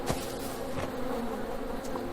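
Bees buzz in the farming video game Farm Together, a steady, moderately faint drone that holds evenly with no talk over it.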